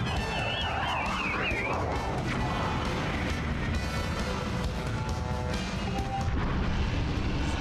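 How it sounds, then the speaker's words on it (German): Cannon fire in the video game The Legend of Zelda: Skyward Sword HD during a boss fight, heavy booming blasts within a dense, loud, continuous game soundscape with a brief rising whistle at the start. "hier hatte ich ja die Kanone schon"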